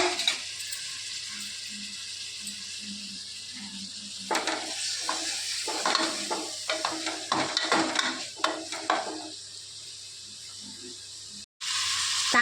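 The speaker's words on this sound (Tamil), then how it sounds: "இப்போ தக்காளி சேர்த்து கிளறிக்கலாங்க" Tomatoes are stirred into a country chicken curry in a pot, with a low sizzle under a run of scraping and clinking utensil strokes, then quieter frying.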